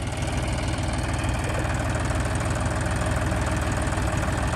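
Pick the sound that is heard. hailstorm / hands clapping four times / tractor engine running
tractor engine running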